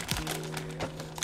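Plastic lightstick packaging is cut open by hand in short crinkling snips and taps, quiet and close, with a faint steady hum behind.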